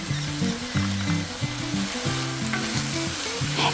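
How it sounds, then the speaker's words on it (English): Potato strips stir-frying for a hot and sour potato dish, a steady close sizzle with the scrape and clatter of stirring running throughout, no voices. "And continuing stir-fry for about 2 minutes."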